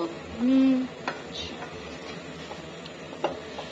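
A spoon stirs Maggi noodles with masala and ketchup in a pan, giving soft scraping strokes and occasional light clinks over a faint sizzle, close and fairly quiet.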